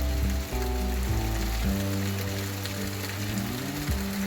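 Heavy rain hisses steadily and evenly throughout, with a low droning tone shifting pitch underneath.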